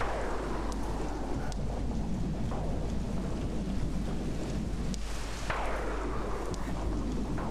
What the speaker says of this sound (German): Jetzt kommt ja wieder der Blitz und dann kommt da diese dämliche Gestalt.